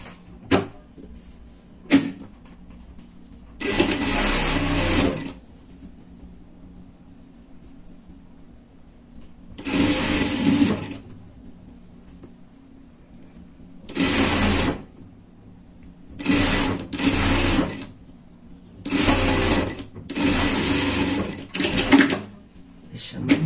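A sewing machine stitches the sleeve and side seam of a lined fleece pet jacket, whirring in about eight loud, close bursts of a second or two each, separated by quiet pauses with faint handling noises.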